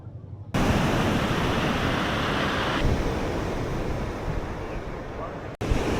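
Ocean surf breaks steadily at a beach in La Union, a loud continuous wash of waves with heavy wind rumble on the microphone filling nearly the whole stretch, briefly cutting out near the end.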